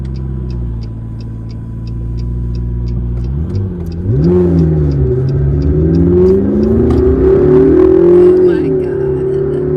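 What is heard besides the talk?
McLaren MP4-12C supercar engine revving in track mode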